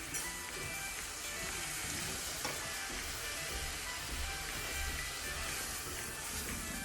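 Raspberry syrup for a keto lemon raspberry custard bubbles and sizzles steadily in a pan over heat, a continuous close simmering hiss with small pops throughout, no voices.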